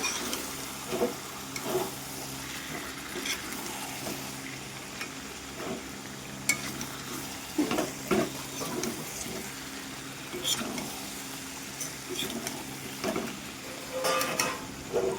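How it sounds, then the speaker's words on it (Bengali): Chicken and potatoes sizzle in oil in a pan while being stirred for biryani, with a constant fry hiss broken by irregular scraping and clattering strokes and a voice present at times. "আমি আলুটা দিয়ে ভালোভাবে একটু চিকেনটাকে নেড়ে চেড়ে আরেকটু সময়ের জন্য কষিয়ে নিচ্ছি"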